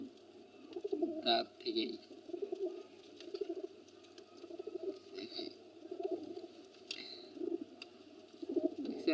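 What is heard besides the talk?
desi golla pigeons cooing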